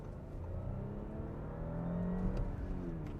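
An Audi A6 Allroad pulls hard under acceleration, its engine note rising steadily and droning loud and close from inside the cabin, with no talk over it.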